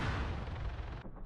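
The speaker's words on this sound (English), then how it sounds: "As you can see, the explosion went off behind the tree." A rocket blast going off behind a tree near a helicopter in Arma 3, a heavy continuous roar of explosion and rumble that fills the whole second before cutting off sharply, with a brief lighter tail after.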